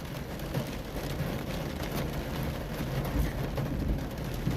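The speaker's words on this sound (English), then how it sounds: "Have a listen to this rain" Steady heavy rain pouring during a rare very rainy day in Adelaide, a dense unbroken hiss with no pauses and no voices.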